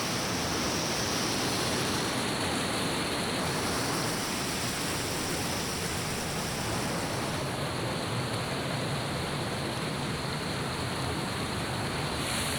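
Jackson Falls in New Hampshire pours in a steady, close, loud broadband rush of water on a summer morning, constant throughout with no voices.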